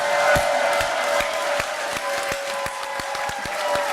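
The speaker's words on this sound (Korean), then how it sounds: "우리 후보들에게 아주 열정적인 박수 한번 크게 보내주시기 바랍니다" An audience at a 2018 South Korean local election candidates' launch rally claps in scattered, uneven bursts over a steady hum from the hall's sound system.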